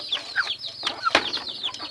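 Labuyo red junglefowl chickens, including a bantam, clucking and chirping in short, scattered calls near and far, with a brief flutter of wings in the middle.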